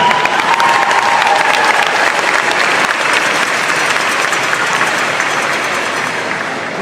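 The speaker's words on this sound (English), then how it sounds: "Big round of applause for them." Sustained applause from a large audience at a prom event, honoring students from the class of 2026 who are entering the armed forces as Marines, National Guard and Air Force; loud, dense clapping fills the whole stretch and eases slightly toward the end.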